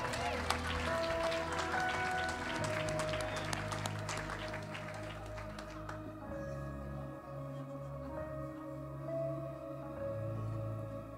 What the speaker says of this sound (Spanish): ¿Pudiera dar el aplauso más fuerte?